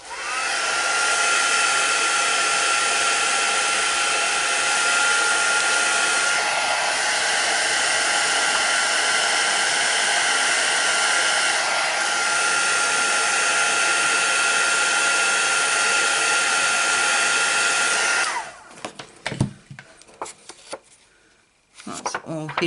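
A heat tool blows hot air over embossing powder on a Stampin' Up card. Its loud, steady blower whine holds for about eighteen seconds, then cuts off, leaving a few soft handling clicks.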